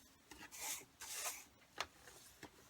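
Faint rubbing strokes sweep across scored paper as fold lines are burnished for a card-making box, several soft scraping passes followed by a few sharper short swipes.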